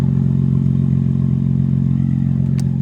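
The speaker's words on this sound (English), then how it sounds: "that right there is actually a 900 RPM idle" A BMW G80 M3 with exhaust modifications idles at about 900 RPM, a loud, steady, deep engine rumble close by that holds even throughout, with no speech.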